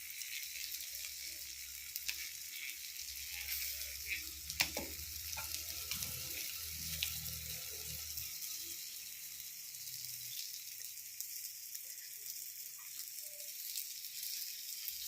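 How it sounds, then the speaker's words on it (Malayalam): Dried paravu fish fries in hot oil with a steady, fairly quiet sizzle and hiss, occasional clinks and stirring sounds rising briefly over the continuous crackle. "പരവ വറുത്തത്."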